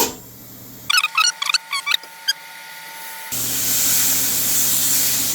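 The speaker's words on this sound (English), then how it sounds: "Gonna drop the steak. You hear that? That's the sound you want." Steak dropped into a hot pan, first a series of short clicks and taps, then a loud steady sizzling hiss that continues to the end.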